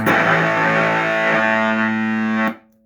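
An electric guitar through a Tone Bender MKII fuzz circuit, heavily fuzzed, rings out loud and saturated, sustaining for a couple of seconds before cutting off abruptly.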